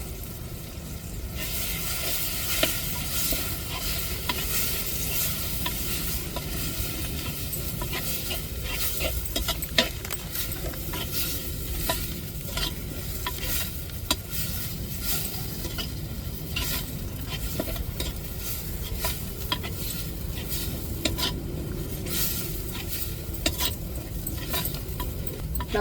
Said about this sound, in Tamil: இப்போ நல்லா அந்த வெங்காயம் தக்காளியில் தாளித்ததில் நல்லா சேர்த்து வதக்கி விட்டுக்கிடுவோம்.